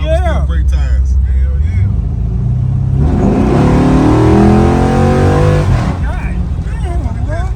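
An LS3-swapped 1972 Impala on a drive revs hard while its tires spin, a loud rising engine roar with a broad rushing tire hiss in the middle, and people talking over it.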